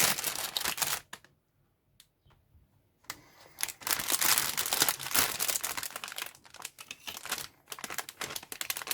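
Plastic bags of model kit parts for a 1/48 Zvezda Mi-24 helicopter crinkle close up in bursts of crackling rustle, with a brief quiet gap early on.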